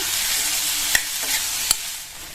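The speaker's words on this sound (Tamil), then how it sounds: "நல்லா ஒரு 2 நிமிஷத்துக்கு ஹை ஃப்ளேமில் வச்சு வதக்கிக்கங்க." Capsicum sautéing in a pan on high flame for a home-style curry: a constant bright sizzle, broken by two sharp metallic clinks of a spatula against the pan.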